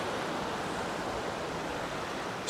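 Clear ocean water washing near a shoreline at Ocean Isle, a steady, soft broadband hiss of gentle surf with no voices.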